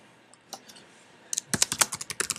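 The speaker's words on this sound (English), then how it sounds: "you can just begin typing in, say, inflection point." Computer keyboard typing while using a plot tools window: a few scattered keystrokes, then a quick, close run of crisp clicks, with no talking.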